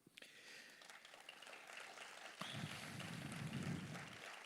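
Faint applause from a union meeting audience in Trieste, a soft patter that swells into fuller, steadier clapping after a couple of seconds, heard from a distance.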